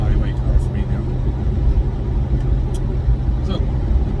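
A 1991 Range Rover Classic cruising at highway speed, a steady loud road and engine rumble with wind noise and no clear voices over it.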